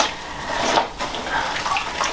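Water runs into a sink to soak a garment, a steady, moderately loud splashing hiss with small bright gurgles and drips scattered through it.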